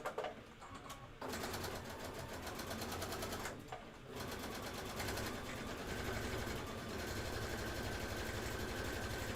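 A sewing machine stitches quilt borders with a fast, continuous mechanical whir. Two brief pauses break the run early on, then it keeps going steadily and close by.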